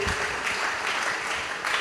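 A church congregation claps hands in a brief, even burst of applause, fairly close.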